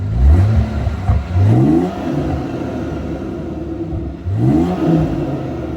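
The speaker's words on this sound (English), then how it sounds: "let's hear this car, and let's hear the air intake" A sports car's air intake, fitted with a panel filter in the original airbox, roars close up through three quick rising revs that fall back to a rumbling idle between them.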